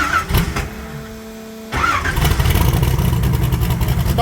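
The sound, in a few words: 1980 Pontiac Trans Am engine starting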